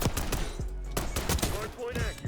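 Sharp, close pistol shots from Call of Duty Black Ops 6, several distinct cracks spaced irregularly across the moment, mixed with in-game effects and faint voice-like sounds.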